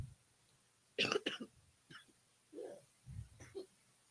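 A few short coughs and throat-clearing sounds, close and fairly quiet, spread out with brief silences between them.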